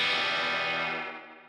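Electric guitar played through a DSM Humboldt Simplifier MkII analog amp simulator with reverb, a single loud distorted chord ringing out and fading over about a second and a half.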